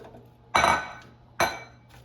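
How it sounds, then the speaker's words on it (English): Two sharp metallic clanks from an air fryer basket being handled as butternut squash zigzags go in, each a loud, bright hit that rings briefly and fades, spaced under a second apart over a quiet background. "let's take out the air fryer basket and put the butternut squash zigzags in the air fryer basket"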